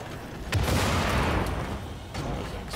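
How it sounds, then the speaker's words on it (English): An explosion in the shooter game Wolfenstein: The Old Blood erupts suddenly about half a second in, a loud broadband blast that rumbles on steadily with a second surge near the end. "That was an explosion."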